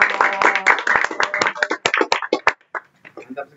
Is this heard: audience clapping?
yes